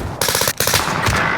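Rapid automatic gunfire in the Call of Duty Warzone video game, a loud close burst of fast repeated shots with a brief pause midway before the firing resumes.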